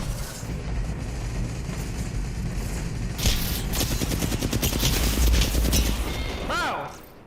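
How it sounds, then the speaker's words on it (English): Gunfire in the battle royale game Apex Legends, a dense run of rapid automatic shots and crashing impacts that grows louder midway, heard over continuous game noise. "Now they're shooting you."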